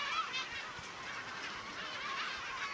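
A colony of yellow-legged gulls on an island breeding ground, many birds calling at once in a dense, continuous chorus of overlapping cries.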